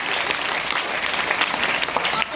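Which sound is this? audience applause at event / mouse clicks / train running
audience applause at event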